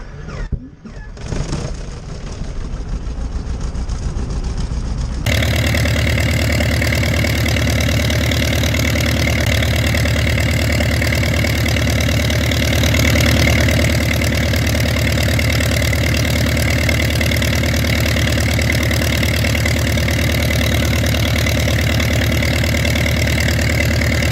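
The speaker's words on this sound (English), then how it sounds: "Once running, switch off the starter motor power switch." A de Havilland DHC-1 Chipmunk aircraft engine starts with a brief uneven starter crank, then catches and settles into a loud, steady, rough droning run that continues unbroken for over twenty seconds, close to the plane.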